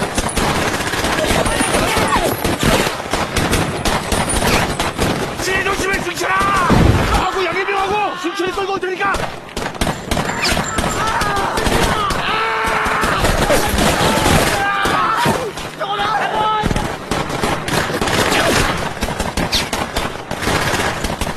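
Dramatized war gunfire between North and South Korean soldiers, with loud rapid machine-gun bursts and single shots crackling continuously under a narrator's voice, punctuated by heavier blasts.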